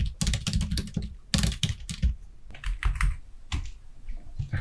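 Bursts of rapid key clicks on a computer keyboard, close and crisp, come in uneven clusters separated by short pauses, with no voices.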